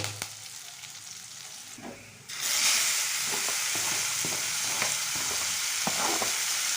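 Curry leaves crackle and sizzle in hot oil for a mushroom gravy, quieter at first, then a loud, steady frying hiss with scattered pops and stirring scrapes throughout.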